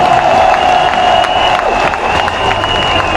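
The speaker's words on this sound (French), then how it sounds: "Applaudissons pour les forces de défense et de sécurité." Crowd at a political rally's closing meeting, loud sustained applause mixed with cheering and a whistle-like tone, filling the space continuously.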